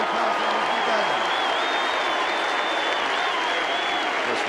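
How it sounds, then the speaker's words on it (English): A huge stadium crowd at the 1989 AFL Grand Final between Hawthorn and Geelong applauds and roars in a dense, unbroken wash, with a whistle rising faintly over the din. "I think we should give him a big round of applause"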